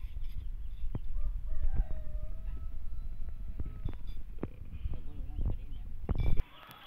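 A rooster crows at dusk among other fowl clucking, with chatter and rain falling in the background throughout.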